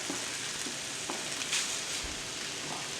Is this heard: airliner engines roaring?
no